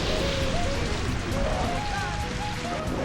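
Rain from the Rain Dance move in the Pokémon Colosseum video game falls as a steady, dense hiss and patter of drops, continuous and even throughout, with a voice talking over it.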